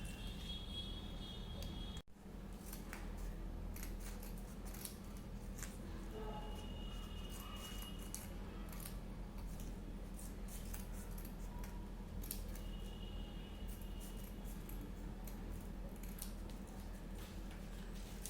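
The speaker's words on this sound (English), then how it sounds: "I'll see you guys after cutting all of it" Scissors cut colour paper into strips for a paper flower craft, giving soft, repeated snips and crinkles that sit faintly over a steady low background hum.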